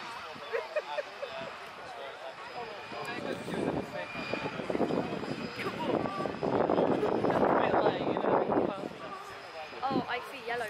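A Jaguar engine drives a light CDRT tracked vehicle of about 8 tons, rumbling steadily and growing louder toward the middle before easing off, with people talking over it throughout.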